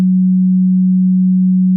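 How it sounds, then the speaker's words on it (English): A steady, loud pure sine wave test tone plays through an equalizer chain, a single unbroken low hum with no other sound. "And I'm going to play the sine wave again."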